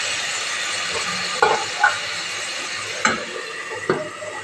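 Masala is sautéed in oil for a rohu fish curry with potol, a soft steady sizzle broken by several sharp clinks and scrapes of a spoon against the pan.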